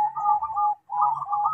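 A zebra dove (perkutut) cooing close to the microphone in two clear, sustained phrases separated by a brief pause, with no talking.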